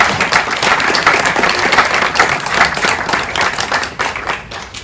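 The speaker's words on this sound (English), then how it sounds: "So I think that deserves a round of applause." An audience claps at a women's insurance network event in Gibraltar, with dense, steady applause filling the whole stretch and easing off slightly at the end.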